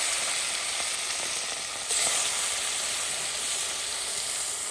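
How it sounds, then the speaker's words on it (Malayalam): Fish frying in hot oil gives a steady, dense sizzle that stays close and even throughout, with a slight surge partway as more fish goes into the pan; no voices. "എണ്ണയൊക്കെ അങ്ങോട്ട് ഒഴിച്ചിട്ട് നല്ലതായിട്ട് മൂത്ത് വന്നിട്ടുണ്ട് അപ്പോൾ നമ്മൾ ഓരോ മീനായിട്ട് എടുത്ത് അങ്ങോട്ടിട്ട് പയ്യെ"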